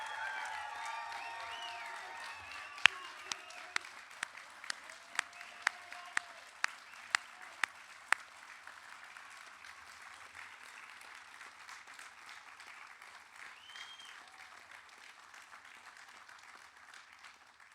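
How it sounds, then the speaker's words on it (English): Applause from the audience at a United States Coast Guard Boatswain's Mate graduation ceremony: dense sustained clapping from a crowd, with a run of sharp, evenly spaced louder claps early on, gradually thinning and fading out. "Would you please all join me in a round of applause for the graduates of Bosun Mate A, RAP 2407"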